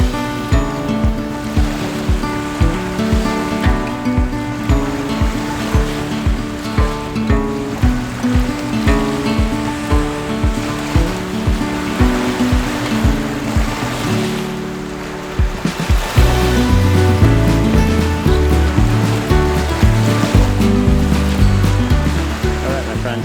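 Ocean waves wash onto a beach in a steady, rushing roar that swells and recedes in repeated pulses, heard over a layered tonal backdrop.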